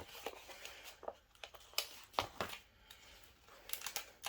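Transfer tape being peeled back off a Christmas craft, a faint series of short crinkling, tearing crackles arriving in irregular bursts close by in a quiet room.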